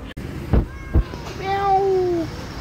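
Two soft thumps, then a cat gives a single drawn-out meow, clear and close, with no talking.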